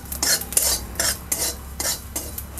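Poppy seeds dry-roasting in a wok, with a dry rustling sizzle and rhythmic scraping strokes of a spatula repeating roughly every half second, close and fairly quiet.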